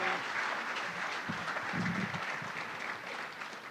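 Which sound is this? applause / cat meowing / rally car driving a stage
applause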